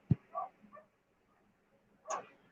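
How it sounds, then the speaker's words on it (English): A neighbor's dog barks at a distance in a few short, faint yips, with a pause and then one more bark. "you're gonna hear my neighbor's dog barking"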